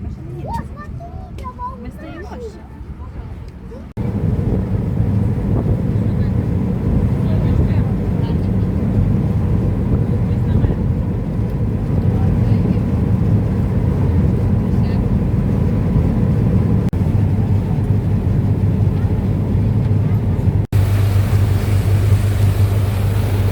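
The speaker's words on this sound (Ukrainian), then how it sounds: "Йдемо плавати на катері." A motor boat on a lake in Ternopil roars with a loud, steady engine drone once the ride starts, after a quieter opening with someone talking nearby.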